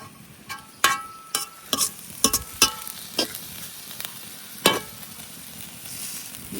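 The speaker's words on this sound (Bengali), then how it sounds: "এদিকে কড়াইয়ে আমি পেঁয়াজ আর রসুন একসাথে ভাজে নিছি আর শীতলটাও সাথে ভাজে নিছি।" Onion, garlic and dried fish sidol fry together in a wok with a soft continuous sizzle, broken by sharp clacks and scrapes of a spatula stirring, loudest early on and easing toward the end.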